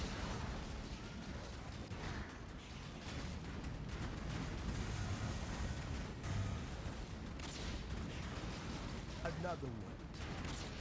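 In Path of Exile, a rolling magma build sets off bomb explosions as a dense, continuous barrage of rumbling bursts and pops. The barrage is loud throughout, with brighter crackles near the end.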